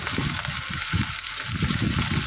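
Chopped onion and cumin seeds fry in hot oil, a steady loud sizzle with soft stirring knocks underneath, close and continuous.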